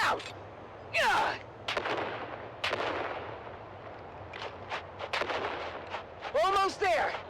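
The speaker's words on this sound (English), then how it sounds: "On 3, we grenade and move! 3, 2, grenades out!" Grenade blasts in a video game sound as several loud, sharp booms spread across the moment, set among shouted voices and scattered gunfire.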